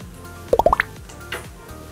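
Runny liquid face primer dripping, a quick run of four or five small plops close together, near and distinct, followed by one fainter drop.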